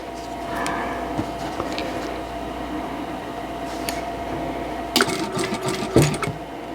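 Quilt block pieces are stitched on a sewing machine, a steady humming motor close by with a few sharper clicks and knocks toward the end and no voices.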